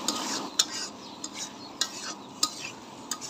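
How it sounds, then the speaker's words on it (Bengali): Potatoes and garlic are stirred in a pan with spices as they sauté, giving a soft continuous sizzle broken by several light scrapes and clinks of a utensil against the pan, close and quiet, with no talk. "তো এখন এগুলো আমি কষিয়ে নিব।"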